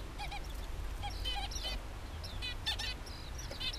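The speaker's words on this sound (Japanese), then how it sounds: "こっちは文鳥かな。" Small caged songbirds, a Java sparrow among them, call in a run of bright, high chirps and twittering phrases. The calls come close and repeat through the stretch over a steady low rumble of outdoor background noise, with no talking.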